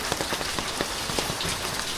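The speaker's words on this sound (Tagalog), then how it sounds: "Heavy rain." Heavy rain pours steadily in Olongapo, a dense, continuous wash of drops hitting surfaces with scattered sharper splashes throughout, close and fairly loud with no voices.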